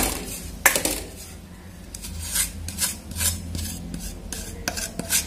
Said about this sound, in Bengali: দেড় কাপ যে গুঁড়ো দুধ সেটা আমি আস্তে আস্তে আস্তে আস্তে আমি ঢেলে নাড়তে থাকবো